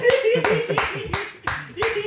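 Steady hand clapping, about six sharp claps in an even rhythm, close and loud, with a voice speaking over them.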